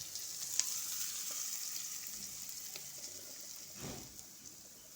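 Onions and other ingredients for paniyaram batter sauté in a pan with a soft, steady sizzle, faint and even, with a few small clicks and one brief swishing stir near the end.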